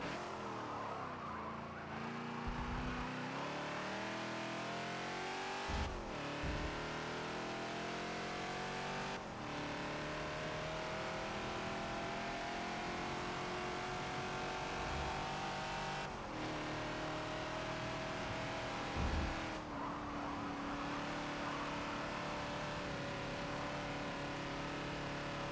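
A Ford Falcon XB race car in the Forza video game laps the Spa circuit, its engine droning steadily and rising in pitch through long pulls, with brief dips at gear changes and occasional tyre squeal.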